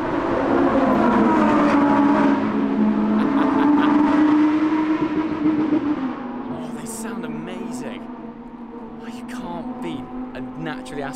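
Lamborghini Huracan Performante with its naturally aspirated engine on the Imola race track, a loud sustained engine drone that eases and settles to a steadier hum partway through, with a voice talking over it.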